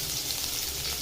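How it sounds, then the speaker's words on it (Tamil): Chopped onions sautéing in oil in a pan for Kerala kadalai curry, a steady close sizzle with soft crackle running throughout, no talk. "வெங்காயம் நல்லா வதங்கட்டும்"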